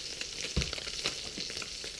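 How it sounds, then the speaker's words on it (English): Largemouth bass fillets sear in a hot pan, producing a steady, close crackling sizzle with scattered pops and small spatters and no voices. "Pan searing it the first way."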